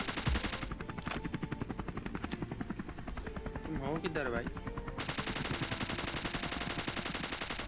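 Rapid bursts of automatic gunfire crackle over a steady helicopter drone in a ScarFall 2.0 match on the Mumbai map, with someone speaking briefly over the noise.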